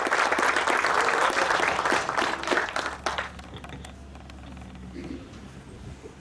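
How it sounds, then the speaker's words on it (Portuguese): Applause from the audience at an industrial park inauguration ceremony, dense and loud at first, then thinning and fading over the last seconds. "Fuerte el aplauso"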